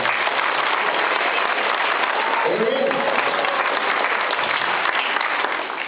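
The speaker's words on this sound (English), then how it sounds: "we give him a round of applause as well." Audience at a high school marching band concert gives a sustained round of applause, loud and dense throughout, with a brief voice speaking over the clapping.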